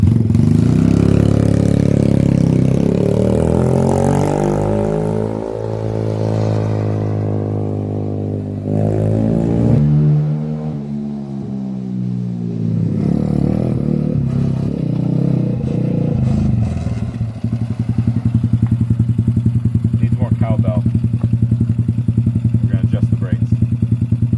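Custom pink Honda ATC 70 three-wheeler with a 110 motor on a test ride, its small single-cylinder engine droning loudly and close, pitch rising and falling as it revs and shifts, with a voice briefly heard over it.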